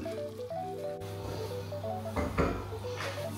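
Metal pot clinks and scrapes as cooked mung beans are moved from a kaldero into a NutriCook pot, with a few sharp knocks and rubbing contacts over a steady low hum of the kitchen.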